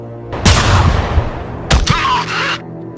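A loud gunshot sound effect bursts out and rings on, then a second sharp blast follows, with no talking over them.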